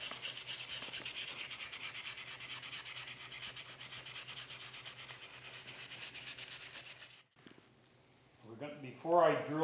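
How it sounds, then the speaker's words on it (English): Continuous rhythmic sanding scrapes against a wooden dovetail saw part for several seconds, then stops; a brief clatter and close handling sounds follow. "So the next process is more sanding."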